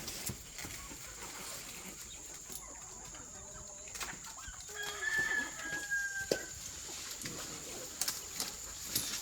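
Chickens cluck and a rooster calls faintly in the distance over quiet outdoor ambience, with occasional sharp knocks.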